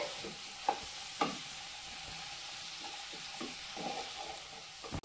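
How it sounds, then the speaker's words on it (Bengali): Vegetables for a vegetable soup lightly frying in a pan, a soft steady sizzle with a few sharp clinks of a spoon against the pan and occasional stirring scrapes. "সবজিটা একটু হালকা করে ভেজে নিতে হবে"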